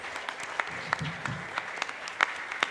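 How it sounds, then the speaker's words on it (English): Sparse applause from a conference audience at the International Brahmo Conference in Hyderabad: scattered, distinct hand claps at uneven intervals, moderately near, with faint talk in the background. "Let's have a huge round of applause for them first."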